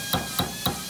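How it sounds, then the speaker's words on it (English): A 12-ounce hammer taps a 1911 pistol extractor held in a vise, three sharp metallic strikes evenly spaced a quarter second apart, close and clear against a quiet background. "I've got a 12 ounce hammer here, and we are going to hit that whichever way we need to go"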